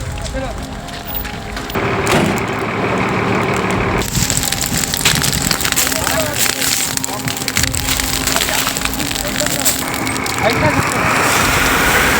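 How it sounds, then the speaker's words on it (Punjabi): Crop stubble fire burning across farm fields at night in Punjab, a steady, loud broadband crackling roar that runs continuously through the clip, with voices faintly underneath. "ਇੱਥੇ ਦੇਖਿਆ ਦੂਰ ਦੂਰ ਤੱਕ ਅੱਗ ਫੈਲੀ ਹੈ"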